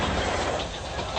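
Train running along the 1880s gold rush railway line in the Gulf country, a steady broadband rumble with faint clickety-clack and hiss, heard close and continuous with no voices.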